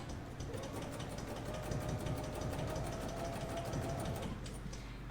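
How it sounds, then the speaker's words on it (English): A BERNINA sewing machine stitching binding onto fabric, running steadily up close with a fast, even mechanical hum and rapid needle rhythm throughout. "so I'm going to go ahead and get started sewing."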